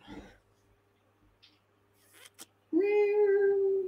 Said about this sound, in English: Is that Garfield, the orange cat?